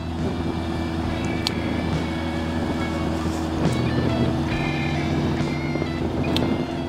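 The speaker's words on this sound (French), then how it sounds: "Elle va tout seul cette bécane, franchement c'est vraiment cool" A motorcycle rides along winding mountain roads in the Vercors, France, its steady low engine drone largely buried under heavy, continuous wind rush.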